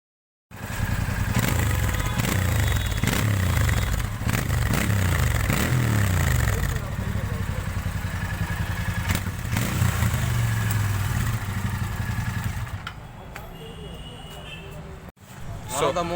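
A Royal Enfield Interceptor 650 BS6 motorcycle runs close by, its exhaust note a steady throbbing rumble with a few revs rising and falling, then easing to idle before a brief cut and restart.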